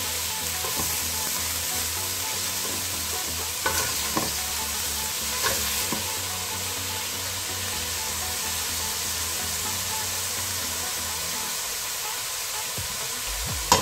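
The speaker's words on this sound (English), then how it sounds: "what we'll do now is braise the onions, as you know, until it's a nice golden brown" Onions braise in a pot for a Cape Malay sugar bean bredie, giving a steady soft sizzle and hiss with a few light stirring knocks, fairly quiet and continuous.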